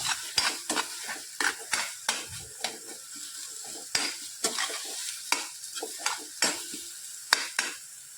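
A spoon or spatula stirs salted eggplant bharit in a pan, giving repeated scraping, clinking strokes in an uneven rhythm with a faint sizzle underneath, close up and without talk.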